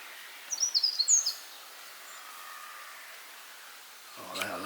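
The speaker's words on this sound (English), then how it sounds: "As you can hear, the birds are here." A short burst of bright chirping bird calls rings out early in a food forest garden, then fades to quiet outdoor hiss, with a soft rustle near the end.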